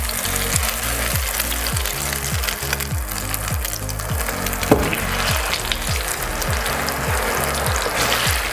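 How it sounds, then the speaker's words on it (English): Rice with prawns and char siu stir-fried in a wok for Yangzhou fried rice, a steady loud sizzle with regular scraping and tossing strokes throughout, no voices. "Again for the rice, please stir fry it for at least 5 minutes."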